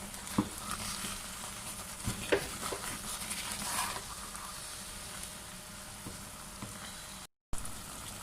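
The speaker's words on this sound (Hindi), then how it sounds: "चम्मच आपने चलाते रहना इसके अंदर" Semolina and milk halwa cooking in oil sizzles and spatters steadily while a spoon stirs it, with scraping clinks scattered throughout, close and fairly soft, and a short dropout near the end.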